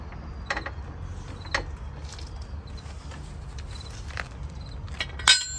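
A floor jack lifting the rear of a Honda Civic, giving a few sharp mechanical clicks and creaks over a low steady rumble, with a louder clack near the end.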